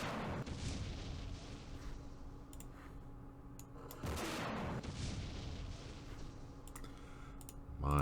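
Tanks firing in the war strategy game Campaign Series Middle East: two sharp cannon booms several seconds apart, each with a decaying rumble, between soft clicking interface ticks.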